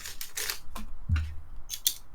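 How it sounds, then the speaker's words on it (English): A pen is struck against a tabletop in a few sharp, dry knocks and clicks, one with a dull low thump, spaced irregularly in an otherwise quiet room. "What you heard was me hitting the pen."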